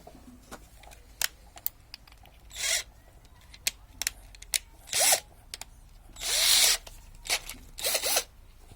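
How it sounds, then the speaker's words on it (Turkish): A JCB Pro Plus 36V cordless impact drill drives a screw, whirring in several short bursts of rising pitch, separated by clicks and handling noises, close up, with no talking. "Şimdi e, vidalama yapalım."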